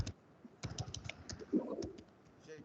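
Quiet clicking of keys on a computer keyboard, irregular bursts of light taps at close range, with a faint low murmur in the background.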